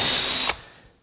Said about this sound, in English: I'm going to take the bit and drill all the way down till I bottom